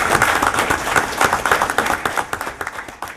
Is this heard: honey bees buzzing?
no